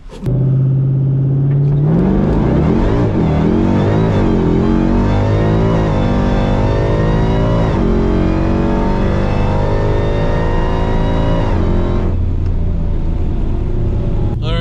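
A Dodge Hellcat launches hard down a drag strip, its engine roaring loud and close as it revs up through rising gear pulls over about twelve seconds before the sound drops away, with no talking.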